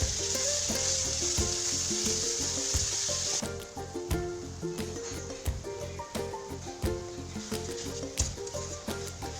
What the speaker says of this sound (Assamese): অকণমান ভাজি ল'ম এতিয়া